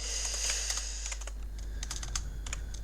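Rapid, uneven keystrokes on a computer keyboard, fairly close and moderately quiet over a steady low hum, with bursts of clicks continuing throughout.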